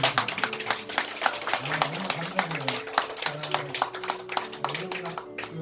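A church congregation claps in a sustained round of applause, with many hands patting in a dense rhythm at moderate volume and a voice speaking over it.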